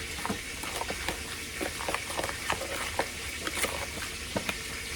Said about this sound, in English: so I'm gonna stir this